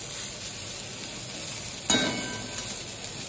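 Long beans and potatoes with five-spice tempering sizzle steadily in a hot pan, with a single metallic clink of a utensil partway through.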